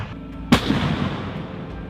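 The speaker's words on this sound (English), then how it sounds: "The M109 is equipped with a 39 caliber 155mm M284 cannon" An M109 self-propelled howitzer fires its 39-caliber 155mm M284 cannon in a single sharp loud blast, followed by a rolling rumbling echo that slowly fades.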